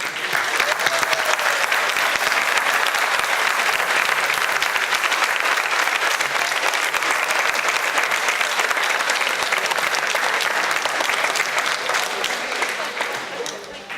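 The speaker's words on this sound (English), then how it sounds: "Please give them a round of applause." Sustained, loud applause from a large audience welcoming new citizens at a county naturalization court ceremony, a dense steady roar of clapping that holds for many seconds before tapering slightly at the end.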